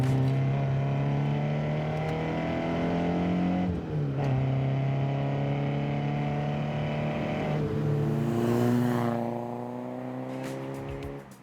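A Peugeot 205 GTI engine drones steadily at high revs for about eleven seconds, pitch dipping and climbing with gear changes, loud and close with no talking.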